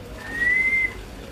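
A single drawn-out, high whistling call, close and fairly loud, from a peacock at a wildlife breeding center in Faisalabad, rising briefly above a quiet outdoor background.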